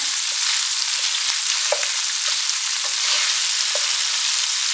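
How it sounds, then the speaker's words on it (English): Ground beef cooking in a single pan for a gluten-free, dairy-free hamburger helper gives off a loud, continuous, even sizzle with faint occasional clicks, close up and steady throughout. "Let this cook a little bit. Typically you would let it cook till it's brown."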